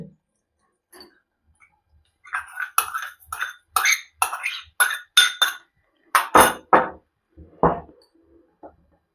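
Spoon clinking against a bowl while eggless fruit cake batter is mixed with an extra half cup of milk and half spoon of sugar: quick, close clatters that speed up into a dense run of taps, then trail off.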